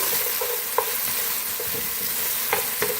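Chicken jalfrezi with onions and finely chopped carrot is stirred in a sizzling pan. The frying hiss is loud and continuous, with a few light utensil taps and scrapes scattered through it, and no voices.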